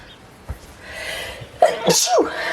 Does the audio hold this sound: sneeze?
yes